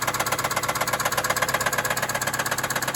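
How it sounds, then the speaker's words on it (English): A loud running engine with a rapid, regular metallic knocking pulsing through it, close and constant throughout. "That is the rod knock."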